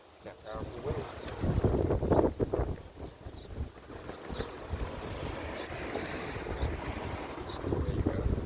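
Gusty wind buffets the microphone at an outdoor campsite with a low, rumbling roar that rises and falls. People talk close by over the wind.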